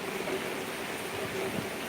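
Steady rain falls outside a home veranda, a continuous broadband hiss of drops with no breaks, fairly loud and close, without talk over it.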